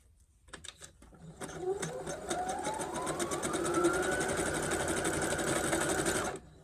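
A sewing machine stitches a seam along the edge of a pants pocket, running steadily and fairly close after a few slow starting stitches, with a rising whir as it picks up speed.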